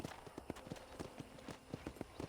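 Horse hooves clip-clop at a slow walking pace in the Western game Red Dead Redemption, an even rhythm of soft distinct hoofbeats, fairly quiet and with no voices over them.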